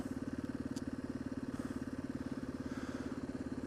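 A Yamaha XT225 motorcycle running with a steady, rapid single-cylinder engine pulse that stays close and even throughout, with no talking over it.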